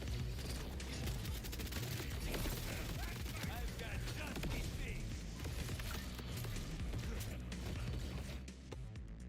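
Gunfire in the shooter game Borderlands 4 crackles in dense, rapid bursts almost nonstop, loud and close, layered with impacts and game noise.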